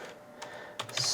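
A few soft, scattered keystrokes tap on a computer keyboard close by, then a quicker burst of typing at the end.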